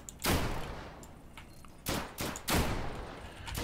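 Double-barrelled shotgun shots in the Deadside survival video game, three loud booming blasts spaced a second or so apart, with quieter game ambience between them and no talk.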